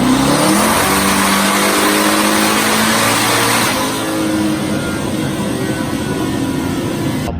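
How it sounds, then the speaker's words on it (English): A Corvette Z06 race car, freshly dyno-tuned and fitted with a Powerglide transmission and trans brake, roars loudly and continuously at high revs, then drops to a slightly lower steady drone, heard close with no talk. "So Chris's vet is more formally known as the Silverback Z06"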